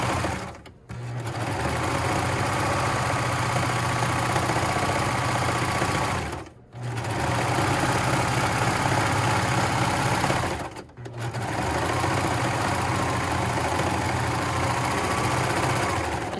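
A serger sewing machine stitching an inner leg seam, running in long steady loud bursts with a constant rapid mechanical whirr, stopping briefly twice between runs.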